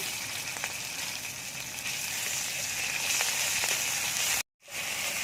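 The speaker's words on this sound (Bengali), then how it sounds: "ভালো করে কষিয়ে নিতে হবে" Panch phoron spices, green chilli and ginger-cumin paste frying in a pan for doi begun, a constant close sizzle with faint crackles, broken by a brief silence near the end.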